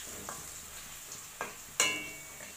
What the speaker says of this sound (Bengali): আমি আলুগুলোকে ফ্রাই করছি